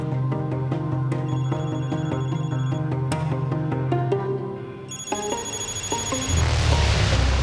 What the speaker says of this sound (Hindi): फोन उठाओ आमिर, फोन उठाओ